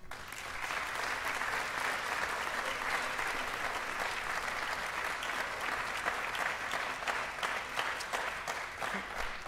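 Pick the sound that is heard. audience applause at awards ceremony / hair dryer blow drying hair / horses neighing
audience applause at awards ceremony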